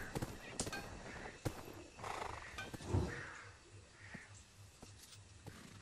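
A horse in the video game Black Desert whinnies loudly amid game sounds, with soft hoof clip-clops and a few sharp clicks scattered through the few seconds.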